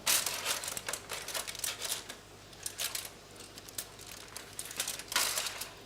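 Aluminium foil crinkles and crackles in soft, irregular bursts as a salmon fillet is lifted gently off it, fairly quiet and close, with no talking.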